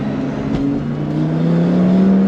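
A McLaren sports car on the road nearby, a loud steady engine drone with a rising tone as it runs alongside, with no talk over it.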